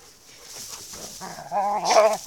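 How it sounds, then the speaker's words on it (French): Several dogs yelp and whine close by indoors, quiet at first, then a rising cluster of sharp, pitched barks in the final second with no talking. "Ça suffit les chiens là."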